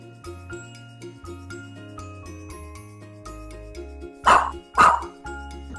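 Two sharp dog barks ring out in quick succession over a light, plinking music backing, loud and close against the soft tune.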